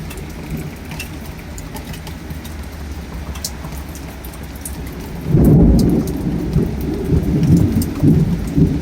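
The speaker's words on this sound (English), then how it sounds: "Big thunder." During a rainstorm, steady rain patters for several seconds before a big, loud thunderclap bursts in and rolls on as a heavy rumble under the rain.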